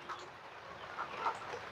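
Wet chickens cluck softly a few times against a steady wash of background hiss, like rain, with no one talking.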